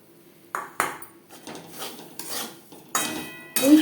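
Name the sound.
stirring dry-roasted semolina in a pan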